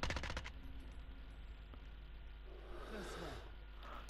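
An AS VAL rifle in a video game fires a quick rapid burst at the very start, loud and close, then gives way to a low background hum.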